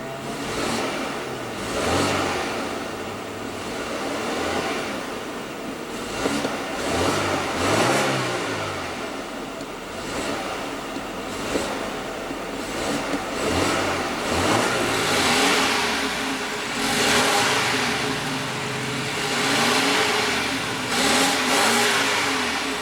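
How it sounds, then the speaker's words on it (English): A 2016 BMW 4 Series Convertible with a 2.0-liter turbo four-cylinder engine revs repeatedly, its mid-pitched engine note rising and falling in several loud, close bursts with no talking. "Now let's go ahead and rev it up."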